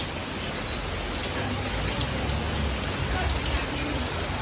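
Heavy rain pours down in a dense, steady hiss, loud and unbroken for the whole stretch, with no distinct voices over it.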